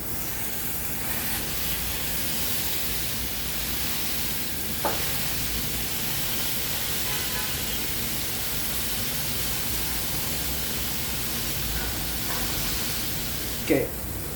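A burger patty pressed hard into the center of a hot pan sears with a steady, close, broadband sizzle and hiss that holds evenly throughout, broken only by a couple of brief clicks or scrapes.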